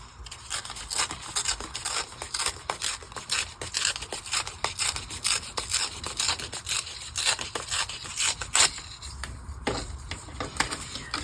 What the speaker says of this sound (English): I'm just going to tear it down just a wee bit here